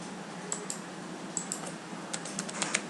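Rapid keystrokes on a computer keyboard while entering report columns, soft irregular clicks over a faint hum, growing denser toward the end.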